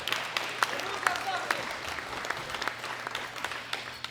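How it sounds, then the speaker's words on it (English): Crowd at a world classic powerlifting championship applauding, a moderate wash of clapping with a few sharper nearby claps standing out and a low steady hum of the hall underneath. "Give them a round of applause"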